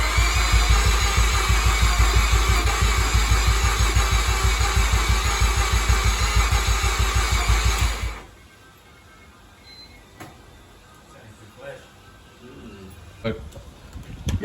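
A Mazda RX-7 fitted with new turbos cranks and tries to start, its loud rhythmic rotary churn pulsing steadily for about eight seconds before cutting off, leaving faint clicks and low shop noise.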